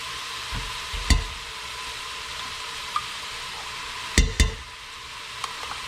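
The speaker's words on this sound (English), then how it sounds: "I always like to saute the tomato paste a little bit." Tomato paste sautéing with onions and garlic for marinara sauce gives a low steady sizzle, broken by a few sharp spoon stirs and clinks against the pan.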